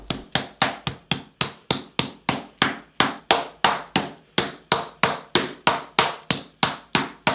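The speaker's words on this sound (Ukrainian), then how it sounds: "І тільки після цього відбиваємо м'ясо молотком." Rapid, evenly spaced heavy thuds of a mallet pounding chicken through a layer of plastic film, about three blows per second, loud and close, continuing without pause and without speech.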